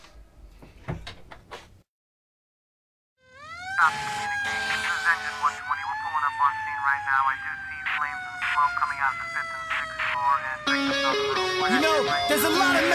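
Emergency vehicle sirens wail loud and close, several overlapping rising and falling tones sustained for about ten seconds after a few sharp knocks and a brief silence.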